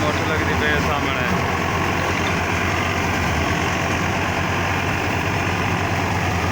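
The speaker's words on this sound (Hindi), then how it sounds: "मोटर लगती पे गंदम निकलती पई है।" A motor drives a wheat thresher during a village harvest, producing a loud, unbroken mechanical roar with heavy low-end rumble and a dense grinding texture throughout.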